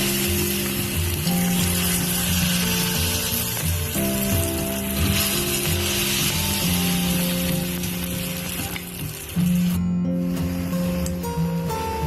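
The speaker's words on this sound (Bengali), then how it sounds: "সবগুলো এভাবে আমি ভেজে নিব।" Egg chips fry in hot oil with a loud, continuous bubbling sizzle close by, and some steady tonal hum runs underneath.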